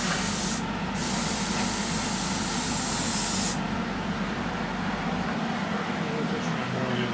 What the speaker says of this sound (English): all you're doing is just gently putting a dust coat right over the top